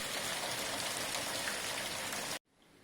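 Steady, dense rain patters loudly on a surface, then cuts off abruptly near the end, leaving a quiet background.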